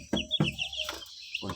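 Young chicks chirp close by in a few short, high-pitched bursts, with brief pauses between calls, in a chick coop.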